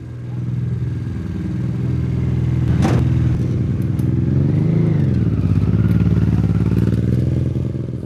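A student-built FS KPI 004 Formula Student race car from Kyiv Polytechnic Institute, with a 60-horsepower engine, runs loudly and steadily nearby. A sharp clatter breaks in midway, and the pitch swells briefly as the engine revs.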